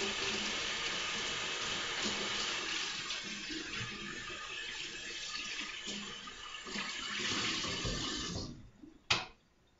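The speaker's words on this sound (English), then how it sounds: "with just water and Norwex microfiber. So we're going to get it wet." A Norwex microfiber EnviroCloth is wetted under a running tap, a steady hiss of flowing water for several seconds before the faucet is shut off with a brief clunk.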